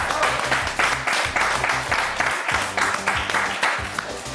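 An audience in a French television studio applauds loudly and steadily, with dense, continuous clapping and a rhythmic pulse running through the crowd.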